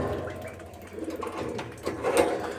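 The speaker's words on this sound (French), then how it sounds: "Tous les pigeons sont arrivés ici." Soft pigeon coos and low murmuring calls, a few close repeated phrases over a gentle background rustle, with no talking.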